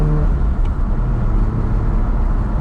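A 1979 Jaguar XJ-S pre-HE with a manual five-speed conversion drives along, its engine a steady, loud low rumble and road roar heard from inside the car, continuous and without speech.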